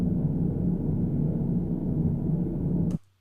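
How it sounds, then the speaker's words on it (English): Low interior hum ambience from a video game, a constant droning rumble with a faint tonal layer, steady and unbroken until it stops suddenly near the end. "There's a hum when you're inside."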